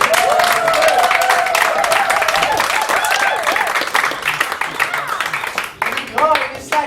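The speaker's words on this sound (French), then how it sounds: "est-ce qu'on pourrait avoir une bonne applaudissement pour notre animateur organisateur?" An evening audience at a French-language event applauds its host and organizer, loud sustained clapping with cheering and voices mixed in, thinning slightly toward the end.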